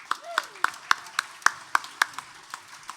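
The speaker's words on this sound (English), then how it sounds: "So a round of applause, please." A few people clap slowly and sparsely at a live folk band performance, distinct single claps at a steady rhythm with a faint voice underneath.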